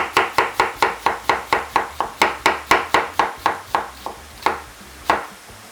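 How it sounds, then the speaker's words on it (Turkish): Kitchen knife rapidly chopping onions on a cutting board for savory pastry filling: a fast, even series of about twenty crisp close knocks, slowing and thinning out toward the end, with no talking. "doğrandı 3 tane soğan"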